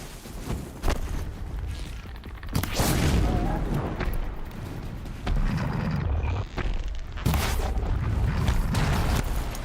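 Explosions in the video game Horizon Zero Dawn, a string of loud booming bursts that arrive in waves, with rumbling debris between them and a voice heard faintly in the mix.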